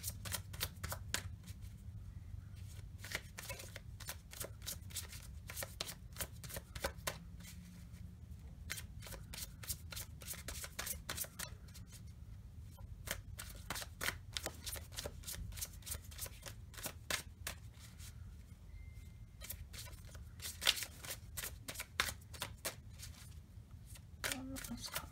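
Tarot cards are shuffled continuously and close up, a steady run of soft riffling slaps and flicks over a low room hum, with no talking.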